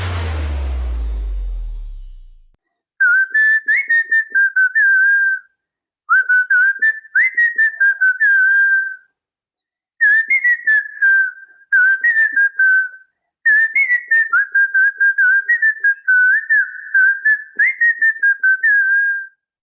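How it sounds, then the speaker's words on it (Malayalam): A seventh-grade girl who won first place in a world whistling contest whistles a melodic tune along to a song. The clear, loud, pure-toned phrases come in several long runs separated by brief silences. "വെറുതെ ചൂളം അടിക്കാനല്ല, പാട്ടിനൊത്ത് ചൂളം അടിക്കാൻ"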